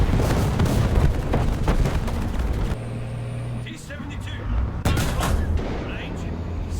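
Tank cannon fire in War Thunder, playing a large light tank, comes as booming shots over a continuous droning engine hum, loud and close.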